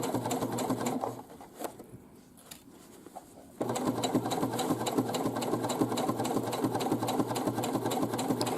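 Sewing machine hemming the pocket of a drawstring bag, a steady rhythmic stitching drone that slows and nearly stops briefly, then resumes at full, even speed and runs continuously to the end.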